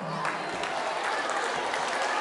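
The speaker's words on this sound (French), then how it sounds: "On l'applaudit aussi." An audience at a school storytelling day in Kambal applauds continuously, a dense patter of clapping from many hands that holds steady throughout.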